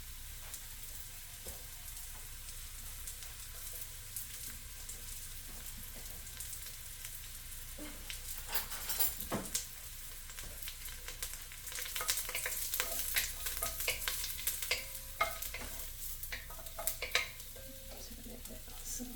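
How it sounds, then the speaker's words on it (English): Mushrooms sizzle steadily in olive oil over medium heat, a soft continuous frying hiss close by, with occasional scrapes and clinks of stirring in the pan. "Then we'll start by sauteing our mushrooms."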